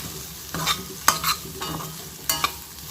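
Beans and potato stir-fry being stirred in a pan, with a spatula scraping in several close, uneven strokes over a soft, steady sizzle.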